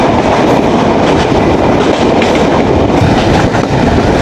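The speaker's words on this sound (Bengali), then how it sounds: "এটি হচ্ছে ইন্ডিয়ান লোকোমোটিভ 65 সিরিজের।" The Kapotaksha Express, hauled by an Indian 65-series locomotive, gives a loud, close, continuous rumble of rolling wheels and carriages with rhythmic clatter and no pauses.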